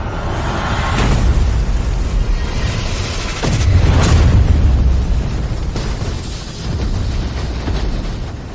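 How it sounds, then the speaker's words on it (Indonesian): Large explosion above a scene of running, heard as a series of heavy, rumbling booms and bursts that swell and roll on for several seconds, loud and close, with no speech. "Ledakan di atas itu sangat dahsyat."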